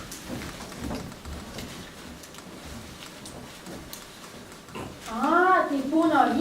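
A rain sound effect in a children's puppet show about a dentist visit gives a soft, steady patter under a performer's voice, with another voice rising clearly near the end.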